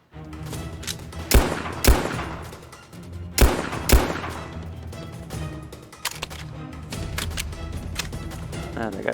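Gunfire and heavy artillery blasts in the war video game Soviet Soldier: two pairs of sharp, loud bangs ring out over a dense, continuous battlefield din, and the din carries on with scattered smaller shots.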